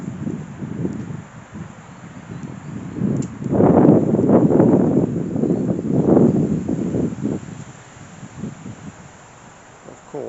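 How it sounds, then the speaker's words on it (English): Gusty wind buffets the microphone outdoors in a cemetery, swelling into loud rumbling surges in the middle and easing off, with faint rustling beneath. "Of course, it's very windy."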